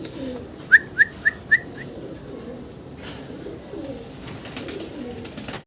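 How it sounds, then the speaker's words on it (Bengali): A pair of high flyer pigeons gives five quick, sharp whistled calls close by at the start, followed by softer, scattered cooing sounds against a quiet background. "খুব ইউনিক কালারের এক জোড়া হাই ফ্লার কবুতর"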